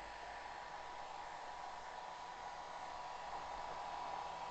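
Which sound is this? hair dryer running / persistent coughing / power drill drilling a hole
hair dryer running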